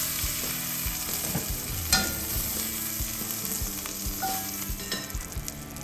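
Steak sizzling and searing in a hot pan in batches for a steak and ale pie, a steady dense frying hiss broken by occasional scrapes and clinks of the utensil, close and fairly loud with no talking.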